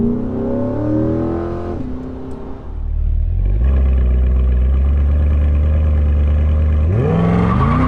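A C8 Corvette launches hard from a full stop, its engine revving up through rising gears with a loud, close roar that swells and holds, then drops and climbs again into the next gear.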